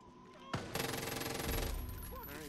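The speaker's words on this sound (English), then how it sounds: "Pull out my pistol" Gunfire in Far Cry 5, a loud burst of shots after a brief lull, then rapid, sustained firing that carries on to the end with a dense, crackling texture.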